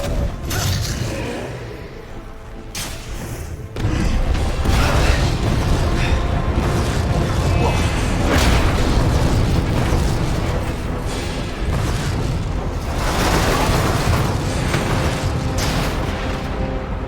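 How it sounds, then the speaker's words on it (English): A grenade is thrown and explodes in the video game Resident Evil 2, with a sudden loud boom followed by a sustained roaring rumble and debris noise that stays heavy and dense throughout. "I'll throw a fucking grenade."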